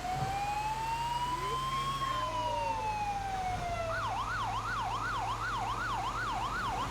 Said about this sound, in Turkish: Burada bir tane Alman sireni de var.